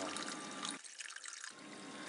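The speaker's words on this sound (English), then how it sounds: "the water comes out that white pipe right there and will be discharged outside" Water discharges from the white outlet pipe of a temporary sump pump pumping out a flooded crawl space, a steady close rushing pour that briefly thins to a lighter trickle before resuming full flow.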